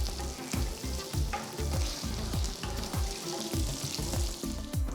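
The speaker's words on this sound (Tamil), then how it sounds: "அடுத்து 2 டேபிள் ஸ்பூன் எண்ணெயை ஊற்றி 1 டீஸ்பூன் சீரகம் போடுங்க." Cumin seeds sizzle steadily in oil in an iron kadai, a dense crackling fry with repeated low stirring knocks, close and fairly loud, no voices.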